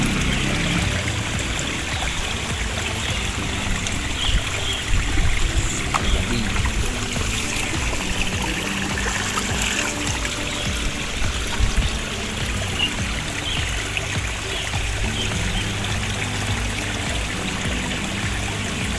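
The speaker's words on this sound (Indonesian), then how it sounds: "kita isi tangkinya sampai tambahkan air" Water runs steadily into a farmer's backpack pesticide sprayer tank outdoors, a continuous gushing, trickling pour that stays even and close throughout with no talk.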